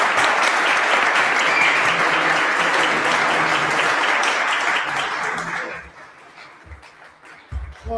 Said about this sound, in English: Another round of applause for Dr. Ross for coming out.